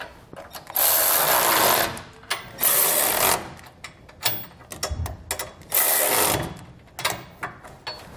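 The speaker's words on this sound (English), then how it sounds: "We can then go back and tighten down all of our hardware using a 19 millimeter socket." A ratchet with a 19 mm socket tightens the bolts of a front-mount trailer hitch on a 2018 Ford. Close, loud bursts of rapid clicking come in repeated strokes, separated by short pauses and small metallic knocks.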